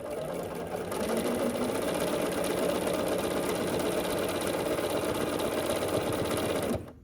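A sewing machine stitches a quarter-inch seam on a foundation paper pieced quilt block, starting after a brief pause and then running in a fast, even, continuous whir close by until it stops abruptly; no talking.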